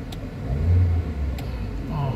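A Toyota Avanza engine suffering low power and delayed throttle response is revved, giving a close mid-pitched rise and hold of engine drone, then easing and climbing again.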